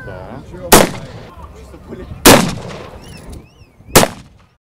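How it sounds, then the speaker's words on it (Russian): Three loud, sharp reports of blank cartridges fired from genuine WWI-era rifles such as the 1891 Mosin-Nagant at an outdoor military festival shooting range, evenly spaced with echoing tails and faint crowd voices between shots. "можно было пострелять холостыми патронами из настоящих образцов оружия времен Первой мировой"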